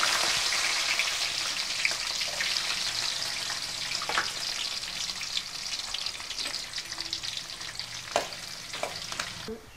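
Cashews and peeled garlic cloves frying in hot oil, a steady close sizzle with occasional crackles and pops, cooked for lemon rice.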